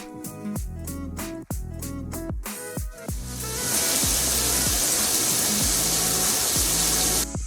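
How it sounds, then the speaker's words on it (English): Water sprays from the overhead shower of a Hydromax 717N3 concealed diverter mixer. A steady, loud hiss of falling water starts partway through and continues to the end, with music playing throughout. "Move the handle upward to direct water flow to the overhead shower."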